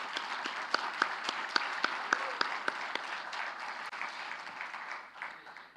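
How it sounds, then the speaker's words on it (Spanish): Audience at a formal political event in Paraguay applauding, a fairly distant, moderately loud sweep of clapping with a few sharp individual claps standing out in a regular rhythm, tapering off toward the end. "Aplausos para ellos."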